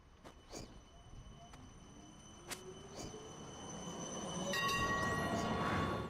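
Train moving through a small, well-kept railway station, its rumble growing louder over the last seconds with squealing wheels and high tonal whine, scattered clicks and thumps throughout, a faint voice in the background.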